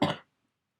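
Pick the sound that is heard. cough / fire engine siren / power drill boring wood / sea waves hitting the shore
cough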